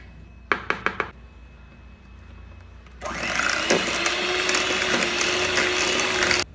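Electric beater whips softened butter for a Christmas plum cake batter, starting after a few sharp knocks and then running as a loud, steady whirring drone up close.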